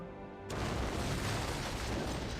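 An antimatter charge detonates aboard a ship in the Halo video game, opening with a sudden loud boom that gives way to a sustained dense rumbling roar, heavy and continuous to the end.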